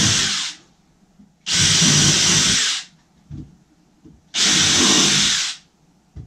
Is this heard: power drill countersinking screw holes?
yes